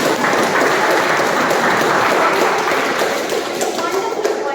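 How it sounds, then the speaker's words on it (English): A room of Toastmasters meeting attendees applauds after a speech, with steady, dense clapping that carries on throughout and a voice speaking over it. "Can we give a huge round of applause?"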